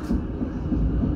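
A KPP rail lorry on track 4 at Cimahi station gives off a brief, low rolling rumble with a faint mechanical hum, fairly close and with no talk.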